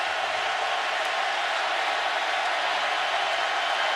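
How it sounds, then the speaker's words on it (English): Dense, steady roar of a large football stadium crowd jeering the Florida Gators on a 3rd down during the 2011 Auburn vs Florida game, a continuous loud wash of voices with no breaks. "3rd down and 17, and the crowd lets them hear about it"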